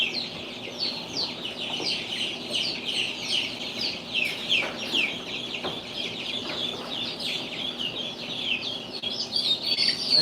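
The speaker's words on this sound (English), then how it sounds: "It looks like we have 10 of these, 10 ducks." A brood of about ten baby ducklings peeping together in a constant overlapping chorus of high, thin chirps, close and lively, with no voices over them.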